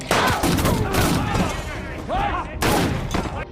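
Gunfire in a film action scene: loud cracking bursts open and close the stretch, and raised voices and commotion sound between the shots.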